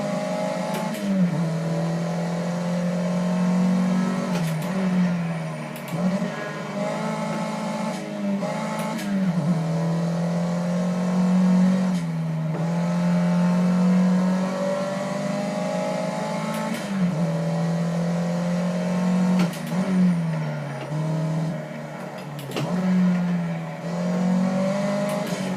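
A car lapping the Bugatti circuit at Le Mans, heard close from on board, its engine droning loudly and steadily with repeated rises in revs and brief dips at each gear change.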